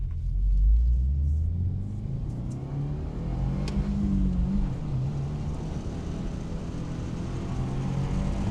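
A Subaru WRX tS engine and exhaust revving, a deep steady rumble with a swell of revs early on that settles into a sustained drone, heard from a moderate distance and alone.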